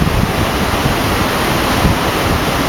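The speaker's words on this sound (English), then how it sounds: "So the back channel is now used as a spillway for the main channel" Water rushes through the Rideau Canal back-channel spillway, a steady, loud, broadband roar that holds constant throughout, with some wind buffeting on the microphone and no voices.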